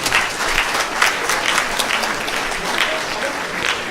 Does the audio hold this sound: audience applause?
yes